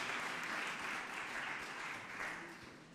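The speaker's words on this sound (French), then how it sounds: "applaudissez Anaïs parce que voilà, elle est venue spécialement de loin" Applause from a conference audience at an industry event, a steady wash of many hands clapping that stays fairly even for the whole stretch before tapering slightly at the end.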